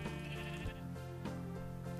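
Several video game sheep bleat in overlapping, quavering calls, a steady chorus at moderate level with no voices over it.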